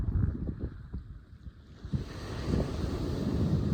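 Strong 40mph wind gusts across the north Wales coast during a bass fishing session, a loud continuous roaring buffet that swells and rises toward the end, with surf rumbling underneath.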